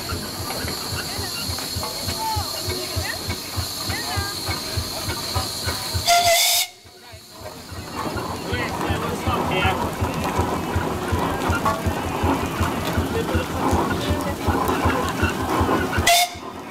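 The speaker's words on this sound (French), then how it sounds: "la R840 va rejoindre les autres engins à vapeur qui contribuent à l'animation en gare" Steam locomotive R840 at a station during a steam festival, giving a loud continuous hiss of escaping steam with rumbling and rain-like noise, briefly cut off, then resuming, with a short whistle-like burst near the end.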